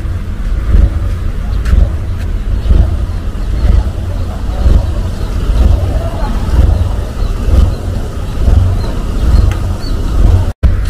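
A river passenger boat bound for Longbagun sits at the Samarinda dock on the Mahakam, its engine giving a steady low rumble throughout, with outdoor ambience around it.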